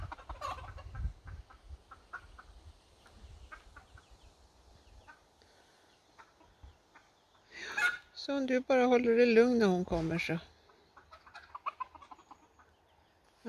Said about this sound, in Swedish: vad säger hönsen och kycklingarna då?